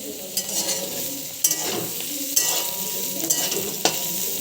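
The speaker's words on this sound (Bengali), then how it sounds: "একটু হলুদের গুঁড়ো দিয়ে ভেজে নেব" Boiled mushrooms fry with turmeric powder in a wok, making a steady close sizzle broken by several sharp scrapes and clacks of a spatula as they are stirred.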